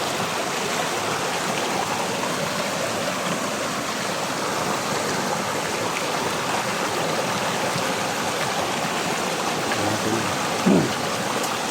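A flowing creek, a steady broadband rush of water running continuously and fairly close, with only a brief faint knock near the end.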